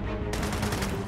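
Gunfire in Gears of War 4, a dense burst of rapid automatic shots crackling over a rumbling backdrop, loud and close, filling the whole brief moment without speech.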